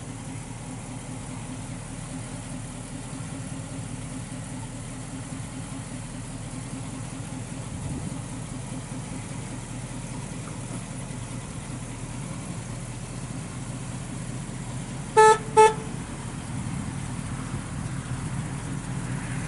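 A 1968 Pontiac Firebird engine idles steadily at close range, a low, even rumble, broken briefly by two short electronic beeps.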